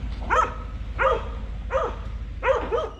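A dog barks at a UPS delivery driver: four evenly spaced, gruff barks, fairly close and loud, with no talking.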